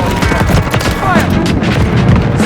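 Rapid bursts of automatic gunfire and booming shots ring out in a military shooter video game, dense overlapping reports with sharp cracks over a continuous battle din.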